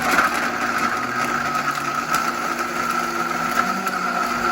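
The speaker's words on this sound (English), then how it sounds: "And now I'm going to blend it up." A blender whirs steadily as it purées greens and berries into a raw vegan smoothie, a loud, constant motor whine holding an even pitch throughout.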